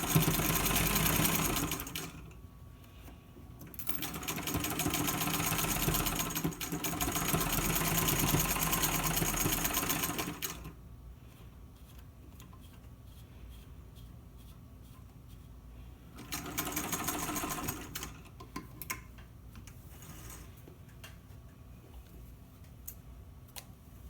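An electric sewing machine stitches a straight side seam of fabric in several long, close-up bursts of rapid mechanical whirring, separated by quieter pauses with faint handling noise.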